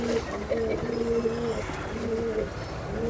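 A domestic pigeon coos in soft, rolling phrases that repeat with brief pauses, fairly close against a faint background hum.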